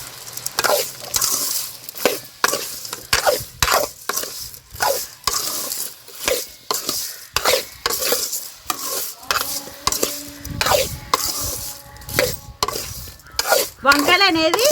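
A spoon stirs turmeric into eggplant chutney in a pan, making repeated scraping and clacking strokes with a light sizzle beneath, close and fairly loud, with no talking.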